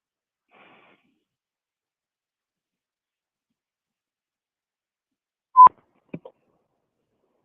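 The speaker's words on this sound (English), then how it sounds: "Dialing. I'm gonna call." A telephone is dialed to place a cold sales call: near silence, then one short, loud electronic tone followed by two brief fainter blips.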